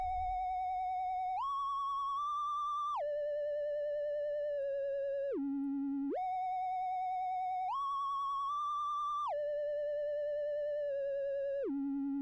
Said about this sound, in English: we're gonna throw this wobbly lead on top